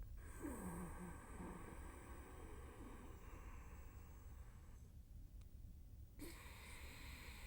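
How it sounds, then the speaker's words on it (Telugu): Ujjayi breathing, a yogic breath drawn through a constricted throat, makes a faint, steady, airy rasp that runs continuously, eases off briefly near the end, then resumes. "ఎప్పుడైతే గొంతు మూలంగా మనం శబ్దం చేస్తామో దీన్ని ఉజ్జయి బ్రీదింగ్ అంటారు."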